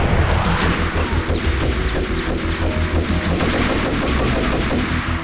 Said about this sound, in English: Who needs bullet time? Just fucking run at him, guns blazing.